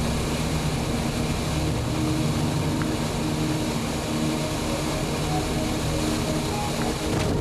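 A Piper Super Cub bush plane landing on a gravel bar in a dry backslough in the Arctic, its engine drone steady and loud with constant broadband roar throughout.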